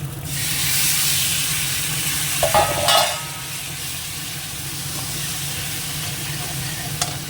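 Spice paste with chilli powder cooking in a pan as water is poured in, a strong steady sizzle and hiss that bursts briefly and then settles into a quieter simmering bubble, close and without talk.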